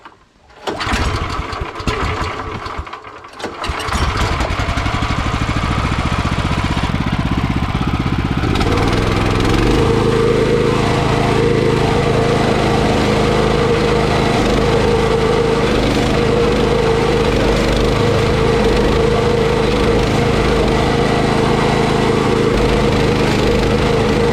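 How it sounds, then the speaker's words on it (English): A stump grinder chewing into a small tree stump on a lakefront lawn, a loud continuous engine drone with grinding rasp after a rough start, steady and close throughout. "Grinding this little stump here before I put erosion stone tomorrow"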